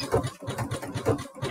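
Sewing machine running a back-and-forth zigzag tacking stitch on a dog bandana, close and fairly loud, with short bursts of whirring motor separated by brief pauses, no voices.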